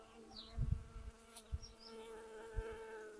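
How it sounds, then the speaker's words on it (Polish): Young bees buzz faintly outdoors, individual insects drifting past with rising and falling whines, plus a few soft low thumps nearby. "tutaj jest na pewno pszczółka. Młode pszczoły."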